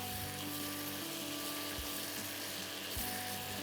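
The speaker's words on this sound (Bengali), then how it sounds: "এটা এবার খুব ভালো করে কষতে হবে, যাতে এই তেলের ফেনা ভাবটা চলে যায়, ভাজা তেলটা থেকে যায়।" Onions sauté in hot oil in a pan with a steady, even sizzle and crackle that runs without a break. No one speaks over it.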